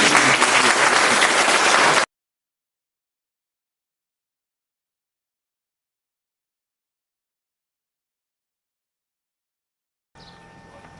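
An audience applauds a hosting team at a local event, a brief burst of loud, dense clapping that stops abruptly, followed by a long silence and then faint background sound.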